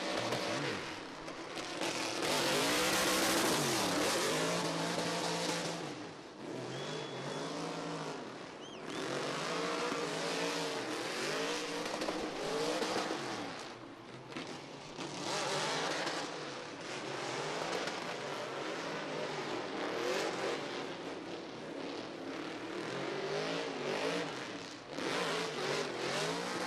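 Drift cars at an Oman international drift championship round screaming through a qualifying run, engines revving hard and rising and falling continuously over roughly half a minute, loud and sustained with a dense roar throughout.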